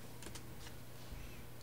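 Keys clicking on a computer keyboard while characters are entered into an Arduino serial monitor: a few quick, light taps close together near the start, then quiet room tone.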